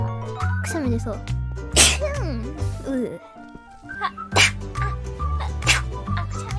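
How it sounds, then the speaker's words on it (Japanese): Two sharp sneezes interrupt steady background music, with a voice talking between and around them. "くしゃみ出ちゃった。"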